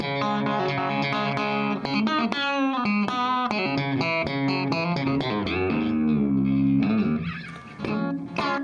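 An electric guitar played through a compressor pedal plays a busy phrase of quick picked notes and short runs, ending in a held, ringing bend with even, squeezed dynamics; it stands alone at steady loudness with no speech.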